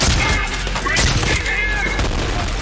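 Loud, dense gunfire in the shooter Trepang2, a sustained fusillade of overlapping shots and impacts that fills the whole moment without pause.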